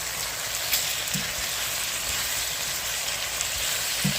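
Two cups of jasmine rice toasting in a pot with a continuous loud sizzle and crackle, and faint knocks now and then as the grains are tossed, with no voices.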